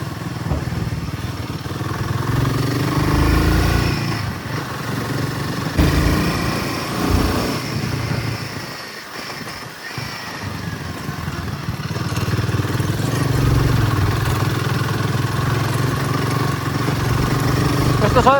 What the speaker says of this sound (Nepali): हाम्रो बाइक चाहिँ अफ रोडिङ गरेर चाहिँ कुदाउनु चाहिँ मजा आउँछ